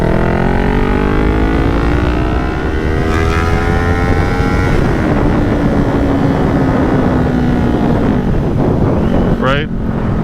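A Kawasaki Ninja 400 motorcycle riding on a highway, its engine whine climbing in pitch through the gears under constant loud wind rush, with a brief sharp rattle near the end.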